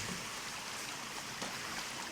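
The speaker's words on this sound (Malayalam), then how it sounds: "പുഴ എന്നൊക്കെ പറയാം, വെള്ളച്ചാട്ടം ഒരു അരുവിയൊക്കെ ആയിട്ടുള്ള നല്ല ഭംഗിയുള്ളൊരു സ്ഥലമാണിത്" Water of a river stream with a small waterfall flows steadily at Madarikkund, Kerala, a broad continuous rushing hiss filling the whole stretch with no voices.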